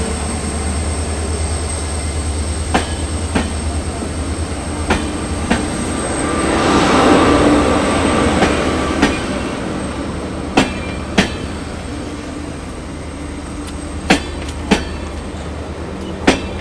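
Day train running from Kukke Subramanya toward Bengaluru, heard from inside the coach: a constant heavy rumble with sharp periodic clacks of wheels over rail joints, a brief swell of louder rolling noise midway, and no talking.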